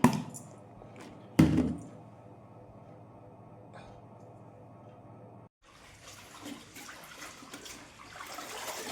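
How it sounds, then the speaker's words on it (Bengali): Municipal corporation tap water runs steadily in a home, a low, even stream broken by a brief splash and a short gap, with a louder, brighter flow after the pause. "কর্পোরেশনের জল পড়ছে, সেই জল দিয়ে এখন এই কাঁচা নিয়ে বসেছে।"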